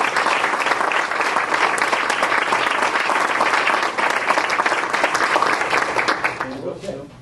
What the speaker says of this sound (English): I think we all should give Susan a nice round of applause for what she did.